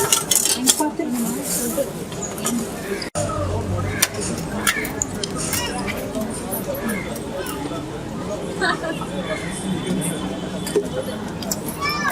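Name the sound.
pouring idli batter into idli plates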